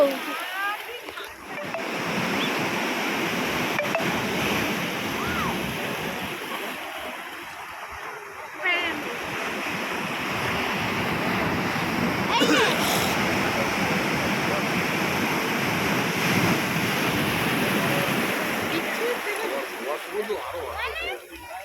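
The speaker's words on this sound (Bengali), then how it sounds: "দেখো একবার এটা দেখো, এই দেখো দেখো দেখো দেখো কত ভয়ঙ্কর ভাবে আসছে। এটা একটা বিশাল ঢেউ।" Large ocean waves crash onto rocks at Digha beach, making a continuous loud roar and splash of surf, with people's voices mixed into the rushing water.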